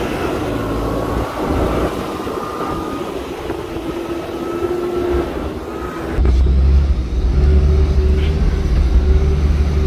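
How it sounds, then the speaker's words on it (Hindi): A jeep engine labours as the first vehicle to climb a mountain road after the ice melts, a loud continuous low drone that deepens and strengthens midway as it strains uphill. "ये पहला गाड़ी है, इससे पहले कोई गाड़ी नहीं आई, इस वजह से थोड़ा फंस रहा है।"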